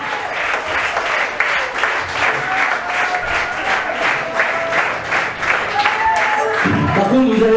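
Crowd applause for the band members at a live concert, loud and sustained with scattered cheers and a voice or two rising over it toward the end.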